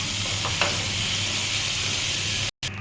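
Cumin seeds sizzle in hot oil in a pan, a loud, even hiss heard up close that cuts out briefly just before the end.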